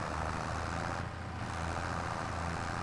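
A tractor engine runs steadily in Farming Simulator 25, a loud, continuous low rumble with a constant drone that barely varies, with no talking over it.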